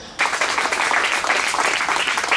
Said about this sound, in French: Et je voudrais qu'on l'applaudisse bien fort.